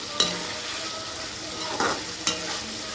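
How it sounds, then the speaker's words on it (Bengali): Fried eggplant pieces are stirred into spices in a pan with a soft, continuous sizzle. A few light scrapes of the spatula against the pan stand out at irregular intervals. "এর মধ্যে আমি আগে থেকে ভেজে রাখা বেগুনগুলি দিয়ে দিচ্ছি। দিয়ে ভালোভাবে একটু নাড়িয়ে নিচ্ছি।"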